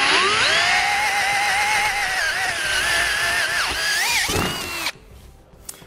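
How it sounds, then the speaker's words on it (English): A power drill with a 5/16 inch bit whines loudly and steadily as it bores holes into metal, pitch wavering under load, then winds down and stops with a few faint clicks. "we're going to use a 5/16 inch drill bit and drill both of those holes out"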